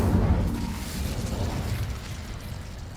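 A fiery Incendio spell blast from Hogwarts Legacy roars out as a dense, sustained whoosh and rumble that starts loud and slowly fades.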